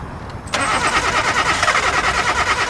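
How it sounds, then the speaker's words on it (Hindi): A car engine starts with a sudden catch and settles into a loud, steady idle, the running engine filling the sound continuously after a brief quieter lead-in. "एक बार कार को स्टार्ट करके देखिए।"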